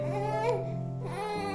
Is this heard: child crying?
yes